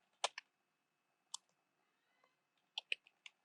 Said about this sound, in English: here we type anything like hello